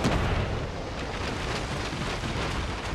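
A galleon cannon broadside in the naval battles of Empire Total War, a dense rolling roar of blasts blending into continuous rumble, loud and sustained throughout.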